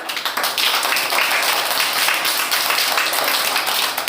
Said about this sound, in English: Clap your hands once again.